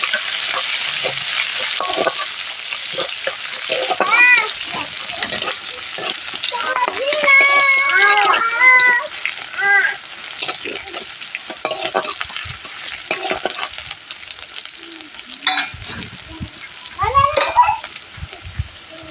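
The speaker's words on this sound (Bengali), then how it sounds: "এবং দিয়ে দেবো পেঁয়াজ কুচি ভালোভাবে আমি ভেজে নেবো" Chopped onion with five-spice seeds sizzles in a hot pan while a spatula scrapes and stirs it in irregular bursts, close and steady throughout.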